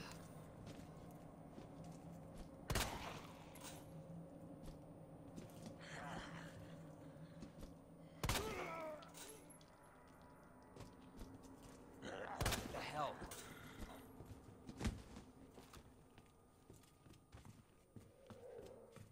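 Three sharp, loud gunshots ring out at a zombie in Resident Evil 2, spaced several seconds apart against a quiet, tense game background, with a fainter fourth impact near the end and a voice talking in between.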